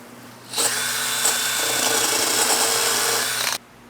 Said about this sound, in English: what I have now is one of these paint stripper attachments on my drill